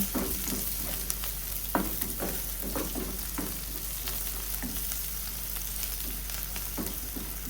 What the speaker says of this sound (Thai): ก็ผัดผัดไปเรื่อย ๆ ให้เขาสุกนะคะ